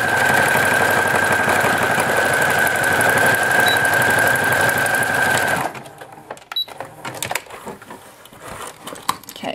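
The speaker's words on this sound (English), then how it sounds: "I'm going to sew straight over that" A sewing machine running a zigzag stitch over fabric for a clothes-line trivet, a loud, steady mechanical whirring hum for several seconds that stops abruptly, followed by quieter handling clicks and rustles.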